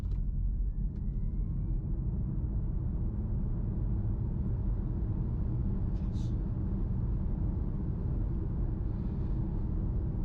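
A Kia EV3 electric car accelerates hard on a New Zealand road: steady low rumble of tyres and wind from inside the cabin, with a faint rising electric whine and no talking.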